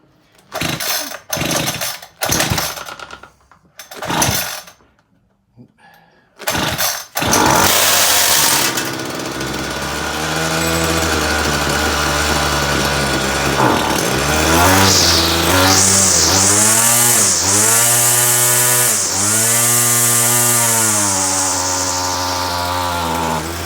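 A 26cc Homelite weed eater with a worn carburetor gives several short pull-start bursts, then catches and revs loudly at full throttle, bogging and surging with a wavering, uneven engine whine close up.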